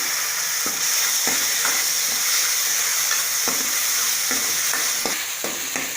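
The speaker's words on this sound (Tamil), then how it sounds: "இப்போ நம்ம கட் பண்ணி வச்சுருக்க தக்காளி சேர்த்திக்கலாம். ஒரு தக்காளி சேர்த்திக்கிறேன்." Onions and tomato sizzle and fry steadily in a pan for green gram curry, a loud continuous hiss broken by several stirring scrapes, with no talking.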